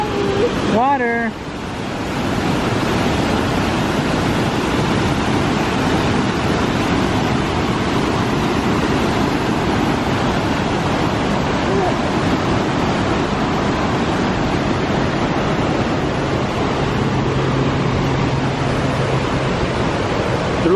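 Rushing water from a waterfall roars steadily and close throughout, a dense broadband wash with wind buffeting the microphone and a brief voice near the start.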